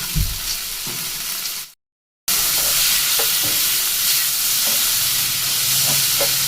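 Spices with turmeric and a little sugar frying in a pan over low flame for a boiled-egg tadka, a continuous loud sizzle with occasional stirring scrapes, cut by a brief silent gap.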